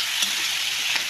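Steady frying sizzle from a crab and coconut milk stew as vegetables go into the pan, with a brief stir or two breaking through the constant hiss.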